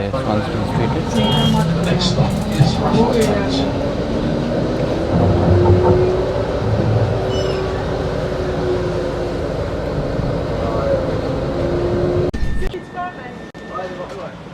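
Inside a free city-centre tram in Melbourne's CBD: a continuous rumbling ride with a rising and falling motor whine and faint voices, then the sound drops away sharply near the end.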